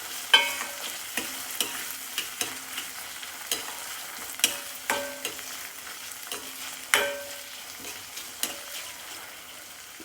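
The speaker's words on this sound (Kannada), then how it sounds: "ಫಸ್ಟಿಗೆ ಕ್ಯಾಪ್ಸಿಕಮ್ ಸ್ವಲ್ಪ ಹುರ್ಕೊಳ್ಳೋಣ" Capsicum and chopped vegetables fry in a pan with a soft, constant sizzle, punctuated by sharp spatula scrapes and clacks against the pan at irregular intervals, with no talking.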